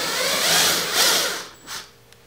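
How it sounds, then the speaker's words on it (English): A power drill whirs through wood in a few short bursts, loud and close, trailing off into quiet at the end. "I'm just going to take my bit here and then just drill"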